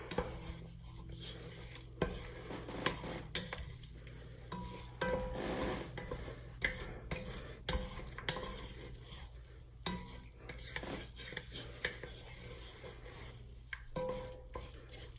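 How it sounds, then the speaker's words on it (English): A spoon scrapes and clatters around a pot on the stove while a roux for lima beans is stirred, with irregular knocks and faint sizzling underneath. "You gotta make sure you keep stirring because right now it can burn."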